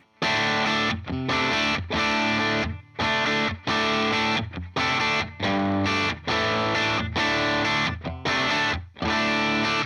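Electric guitar with Lollar 50's Wind pickups, played through a Timmy overdrive pedal with reverb off: overdriven chords ring out in short, rhythmic bursts with brief gaps, a thick, gritty distorted tone played loud and close.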